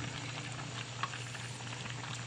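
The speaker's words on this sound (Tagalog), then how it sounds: "Oh, kumukulo na, luto na yung sitaw" String beans boil in a pot of water, giving a steady, even bubbling hiss with a soft low hum underneath, quiet and continuous without voices.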